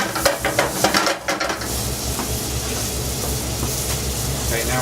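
Bacon sautéing in a pan for coq au vin gives off a steady, close sizzle, with a few stirring scrapes and clatters near the start before settling into continuous frying.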